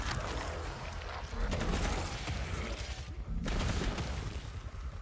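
Dense, continuous gunfire from Warframe, a rapid stream of overlapping shots and impacts with brief dips, fairly loud and busy, without clear talk.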